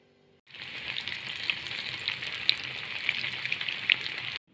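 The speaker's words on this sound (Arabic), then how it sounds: "هنسخن الزيت بقى وهنقليه وهنوريه لكم" Cauliflower frying in hot oil makes a steady, dense sizzle that starts abruptly after a brief silence and holds close and even, with small crackles popping through.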